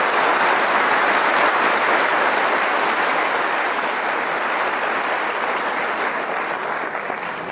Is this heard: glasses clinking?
no